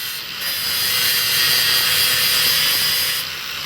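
Grinder working a copper-inlaid steel piece in a blacksmith shop, a loud continuous high-pitched rasping whine held steady for several seconds, close up, with no talking.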